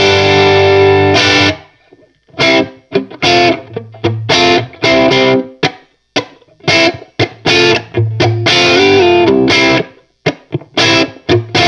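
Electric guitar played through a Vox MV50 AC micro tube amp with dry, crunchy gain, loud chords and short choppy strums broken by brief pauses, with no reverb added.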